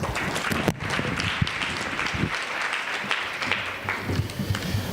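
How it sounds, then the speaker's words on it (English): A crowd at a government Women's Month launch event in KwaZulu-Natal applauds steadily, a dense wash of many hands clapping at once throughout. "please give our exhibitors a big round of applause"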